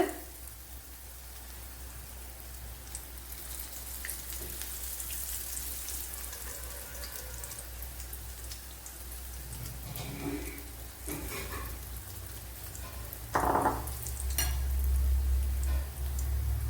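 Egg pakoras frying in hot oil over a low flame, a soft steady crackle and sizzle throughout with a few brief clatters of utensils.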